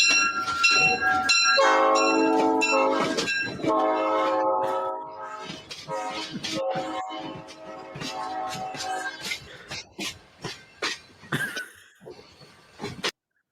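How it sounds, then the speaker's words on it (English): A train sound effect plays, a loud multi-tone horn blowing in long repeated blasts with bell-like ringing, then fading into rumbling clatter and scattered knocks toward the end. "that's a good train noise"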